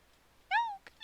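A gray cat in the Minecraft video game gives a single clear meow, fairly quiet and close, with a short faint chirp just after.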